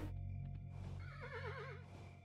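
A horse in the video game Kingdom New Lands lets out a single wavering whinny over a steady game music and ambience bed, fairly quiet and with no one talking.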